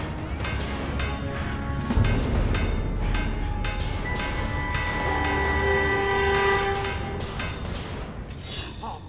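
Monorail train in Fable III, a continuous rumbling rail roar with metallic clatter and a sustained horn-like tone running through, steady and fairly loud.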